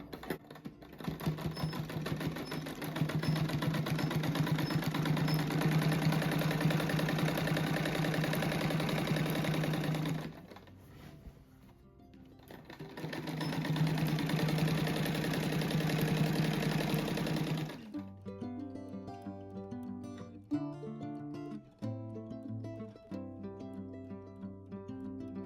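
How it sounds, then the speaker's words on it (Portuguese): A sewing machine runs in two long, steady motor bursts with a short pause between them, stitching a rug made from old jeans. It is close and even, and then it stops. "aqui eu vou fazer mais uma costura igual eu fiz aqui"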